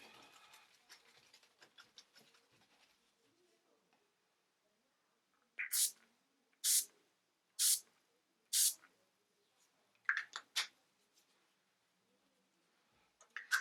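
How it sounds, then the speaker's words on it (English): Short sharp hisses from a pump bottle of makeup setting spray, four evenly spaced bursts and then a quick pair, with quiet rustling before them. "I'm just setting my makeup with the All Night setting spray."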